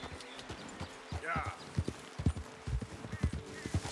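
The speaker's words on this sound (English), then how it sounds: "Got some horses over here." Horses in Red Dead Redemption 2, likely Morgans and an American Standard Bred, with hooves clip-clopping in soft, uneven bursts under game ambience and someone talking over the top.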